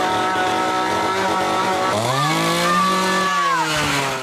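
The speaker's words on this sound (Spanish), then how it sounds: "se convierte en un verdadero fanático de la motosierra y lo demuestra al descargarla sobre Melissa, pero la máquina traicionera se detiene de repente" A chainsaw runs loud and steady with harmonic engine drone, its pitch sagging and wavering before it abruptly cuts out at the end, with no talk.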